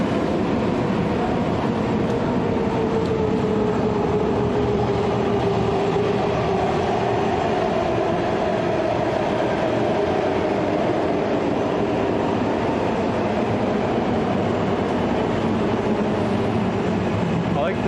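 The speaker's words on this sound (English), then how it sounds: "Another train coming through." A train rumbles steadily through West Philadelphia, a continuous loud roar of rail cars passing close by with faint rhythmic clatter, heard outdoors on a street.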